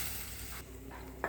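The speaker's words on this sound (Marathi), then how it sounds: "छान उकळायला लागलेलं आहे।" A curry with a little added water simmers and boils in a pan, giving a brief, faint, steady bubbling hiss that ends with a small sharp clink.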